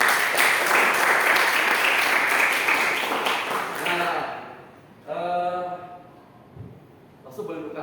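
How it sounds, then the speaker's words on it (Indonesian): At a youth Christmas celebration in a church, the audience gives God a loud burst of applause that fades out halfway through, followed by a voice speaking over a quieter room. "Tepuk tangan yuk buat Tuhan."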